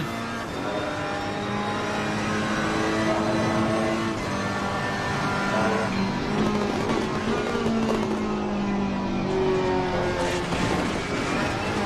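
Race car engine at the Donington Park circuit, revving hard and continuously at high pitch, with gears shifting and the note rising and falling, loud and close throughout.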